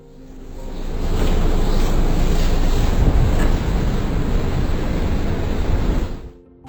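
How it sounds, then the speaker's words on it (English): A 5-ton truck wades through deep floodwater, giving a loud, steady broadband rush of churning water and engine rumble that builds in, holds for several seconds, then drops away, with wind buffeting the microphone. "Just wading through water in a 5-ton."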